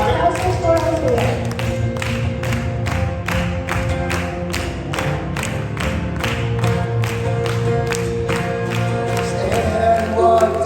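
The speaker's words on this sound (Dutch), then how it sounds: "Berikan tepuk tangan yang luar biasa buat teman kita." A congregation at a Gereja Kasih Kristus Nederland church service claps in a steady, regular beat over music, many hands striking together in even pulses throughout.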